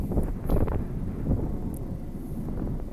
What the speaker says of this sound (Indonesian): Maaf kalau agak noisy karena di sini banyak angin.